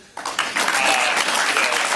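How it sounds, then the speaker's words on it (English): An awards-ceremony audience breaks into applause for Barbara Chisholm, a dense burst of many hands clapping that starts abruptly after a brief quiet and holds steady and full. "if we could all give a clap for Barbara Chisholm"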